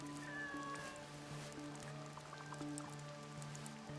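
A cat meowing in the video game Assassin's Creed Shadows, a few soft meows over pattering rain and a low steady ambient hum, fairly quiet.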